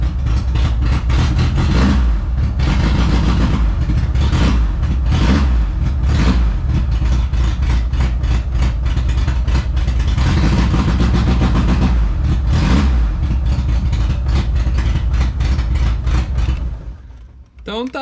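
A Fiat 147 engine starts and idles after its wiring harness was repaired, a loud steady low rumble with throttle blips running almost continuously, then cutting off near the end, with someone talking over it.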